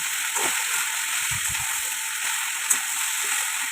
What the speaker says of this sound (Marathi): मंद आचेवर 10 ते 15 मिनिटे आपल्याला ही भेंडी परतून घ्यायची आहे।